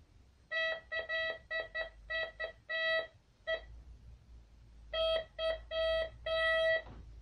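MD 4030 metal detector sounding its signal over a ring, a series of clear, bright electronic beeps in quick irregular bursts, a pause, then another cluster, close and moderately loud.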